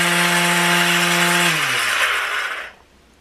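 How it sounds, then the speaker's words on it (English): A power sander buzzes loudly at close range with a steady high whine, then winds down as it is switched off, its pitch sliding lower before it falls silent. "let's see if I can do some sanding"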